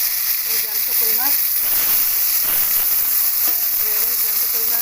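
Live koi fish sizzling as it fries in hot oil in a kadai, a steady broadband hiss running throughout, with a faint voice speaking briefly over it.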